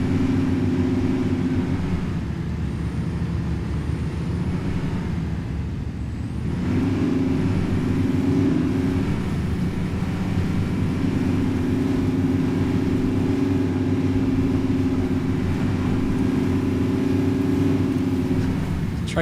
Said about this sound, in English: Truck's really loud, I can tell you that.